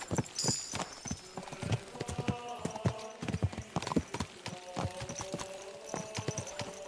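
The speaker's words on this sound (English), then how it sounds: "Let's really spur these horses on, eh?" Horses gallop in the medieval video game Kingdom Come: Deliverance II, with close, rapid hoofbeats drumming unevenly throughout and a brief whinny near the start.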